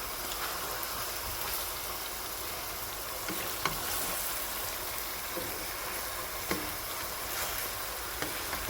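Dried coriander, fenugreek and cinnamon frying in a kadai for chicken, giving a steady soft sizzle with a few faint clicks and stirring taps, close but quiet.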